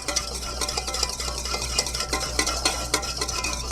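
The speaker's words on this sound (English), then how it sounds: "Give it a nice mix." A spoon stirring sriracha and oils together in a bowl to cream a sauce for ahi sushi, a quick, continuous scraping and clinking close by with a low hum beneath.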